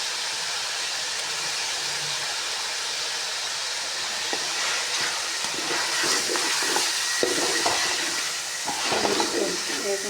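Chicken pieces fry steadily with ginger-garlic and green chili paste for a restaurant-style chicken bhuna masala, giving a continuous close sizzle broken by occasional stirring scrapes.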